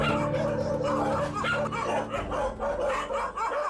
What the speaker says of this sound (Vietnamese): tiếng chó sủa inh ỏi